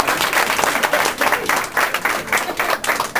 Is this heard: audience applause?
yes